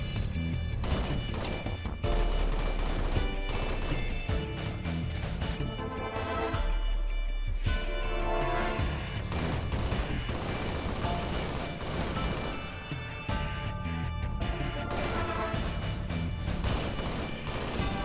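Gunfire shooting out windows in the Halo Wars video game, dense rapid bursts and shots with crashing impacts, loud and continuous throughout with no voices over it.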